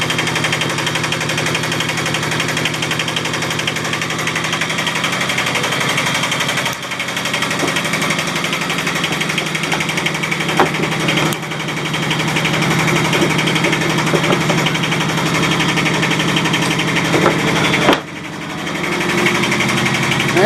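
A rebuilt boat motor runs steadily at close range, a loud, even mechanical drone with rapid rattling pulses and a few brief dips, heard alone without speech.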